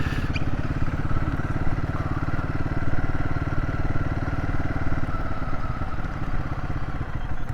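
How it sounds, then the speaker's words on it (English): Motorcycle engine near a motorbike parking area at Obersalzberg, running with a steady, low, pulsing idle at moderate volume under constant background noise. "Parking for motorbikes."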